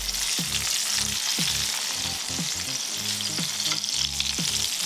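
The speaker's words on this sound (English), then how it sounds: "So the beef will be cooking for about 15 to 17 minutes for a perfect medium." Beef steak fries in a hot pan with loud, continuous sizzling and crackling spatter close by, alongside repeated low thuds and scraping from stirring or handling.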